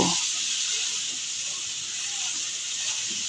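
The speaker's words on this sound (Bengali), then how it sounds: "এবার সিদ্ধ করে নেওয়া নুডলসগুলোকে দিয়ে কিছুক্ষণ ভাজা ভাজা করে নেব" Boiled noodles fry in a pan with a steady, close hiss of oil that starts with a brief louder burst, and a voice speaks faintly over it.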